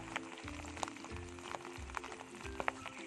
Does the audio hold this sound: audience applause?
no